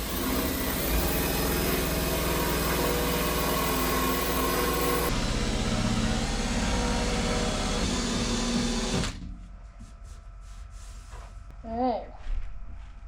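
A power sander grinds rust off an F150 truck fender with a loud continuous abrasive roar that shifts in tone midway, then cuts off, leaving a voice speaking briefly.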